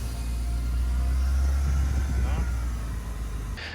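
A Porsche Boxster 987 engine hums at a steady low idle close by, heater on max, with a brief rise in revs midway and a faint high whine near the end.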